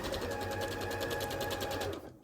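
A sewing machine runs steadily, stitching quilt block pieces together, with an even rapid mechanical rhythm up close that slows and stops near the end.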